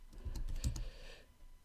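Fingers type code on a computer keyboard during iOS Swift programming, a quick run of close, light key clicks for under two seconds.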